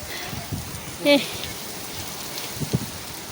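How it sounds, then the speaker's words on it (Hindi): Heavy rain falls on a farm field during a windy storm, a steady soft hiss with a few louder gusts and knocks. "इतनी बारिश हो रही है, भीग गई मैं।"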